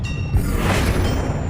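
A Levioso levitation spell cast in Hogwarts Legacy produces a brief magical whoosh with mechanical rumble and a shimmering high ring, all in one short burst with no voice.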